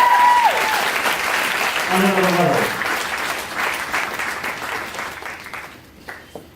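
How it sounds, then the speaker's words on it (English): Audience applause fills a speech event, broad and sustained, with a voice talking over it and a brief tone at the start; the clapping thins out toward the end. "Give a round of applause to them."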